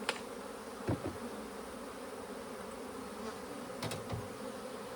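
Honey bees buzz steadily around an opened hive during queen-rearing prep, a continuous close drone with a few brief sharper passes rising above it.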